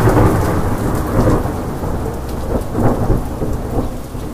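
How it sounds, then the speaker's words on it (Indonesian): Thunder strikes near a large tree beside a mountain trail on Gunung Salak, a loud rolling rumble layered over steady heavy rain that swells and fades in several deep waves without any voices. "tiba-tiba petir dengan suara menggelegar menyambar pohon besar di samping kanan jalur yang kami lalui"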